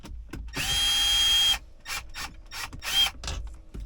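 A ratchet wrench removing the stereo screen bolts on a Mercedes-Benz SLK, with a sustained buzzing run of clicks followed by several short, close, rapid bursts of ratcheting.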